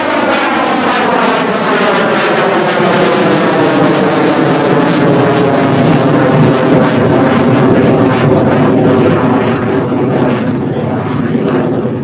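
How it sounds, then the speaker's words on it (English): A Lockheed Martin T-50A jet makes a loud, sustained flyby at the 2017 Joint Base Andrews air show, its engine roar rising and falling with a sweeping pitch shift as it passes, with no talk over it. "the T-50A doing a great job of demonstrating slow flight"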